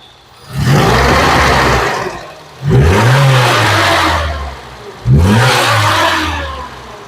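An Amigo vehicle revs up after starting, three loud, close bursts of rising motor whir, each swelling quickly and then tapering off before the next.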